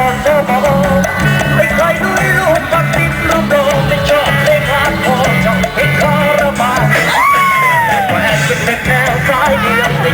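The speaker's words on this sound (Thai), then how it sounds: "อันนี้ก็คือบรรดากองเชียร์นะครับ" A festive crowd at a Bun Bang Fai rocket festival in Thailand yells and whoops, loud and continuous, with music and cheering voices layered densely together and a rising shout standing out near the end.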